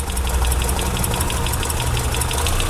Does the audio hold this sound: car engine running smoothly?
yes